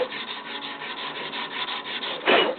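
Koa wood knife handle being sanded with 120 grit sandpaper, a steady close scratchy rubbing in quick even back-and-forth strokes, ending in one louder, harsher pass.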